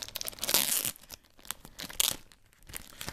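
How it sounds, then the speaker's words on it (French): Packaging crinkles and tears in short bursts while an official LG Optimus G E975 bumper case is unboxed, with two louder rustling crunches and quieter plastic handling between them, close up and without talk. "donc on va continuer le déballage"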